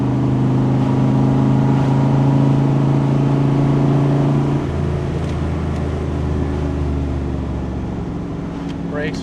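A 1967 Chevrolet Corvette L71 427 V8 drives on, its engine a steady, loud droning hum from inside the car that drops in pitch midway as it eases off, with some talk faintly underneath.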